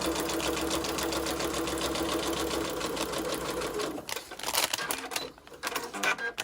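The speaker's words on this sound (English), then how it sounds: "Just going to do a nice straight stitch right around." Sewing machine running a straight stitch, fast steady mechanical clatter close up that stops partway, followed by irregular handling clicks and bumps.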